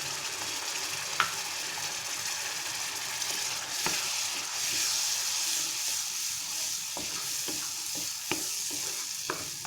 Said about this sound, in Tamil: நல்லா தக்காளி பச்சை வாசனை போகிற அளவுக்கு வதக்கி எடுத்துக்கலாம்